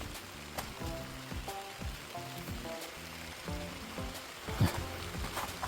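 Rain falling outdoors in a vegetable garden among pepper plants, a steady hiss of drops with scattered sharper taps and clicks on nearby surfaces, fairly close and continuous throughout.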